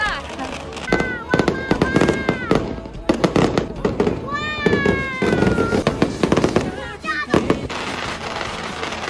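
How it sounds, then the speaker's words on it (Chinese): Fireworks go off at a family gathering, a rapid series of loud sharp bangs and crackles, with whistling rising tones in the middle and lively voices and chatter heard throughout. "现在人都聚到你这来了，就开始放烟花。"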